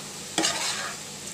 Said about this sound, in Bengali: মরিচের গুঁড়া, হলুদ, লবণ দিয়ে এবার আমি মুরগির মাংসটা ভালো করে কষিয়ে নিব